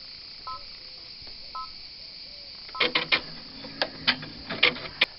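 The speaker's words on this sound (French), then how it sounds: "je vais aller ici appuyer sur la touche de coupe et je vais voir ainsi où tombe mon aiguille" An embroidery machine beeps a few times at a keypress, then its thread cutter engages with a burst of sharp mechanical clicks and clatter as the needle moves into position, close and alone.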